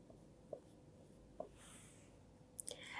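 Pen or pencil scratching across paper while an answer is written by hand, quiet and close, with a few soft taps and strokes spread through and a busier run of scribbling near the end.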